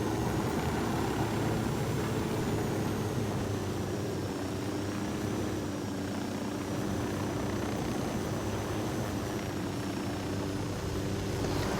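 Helicopter in the video game Ghost Recon Wildlands, a continuous loud rotor and turbine drone with a faint high whine, holding steady throughout.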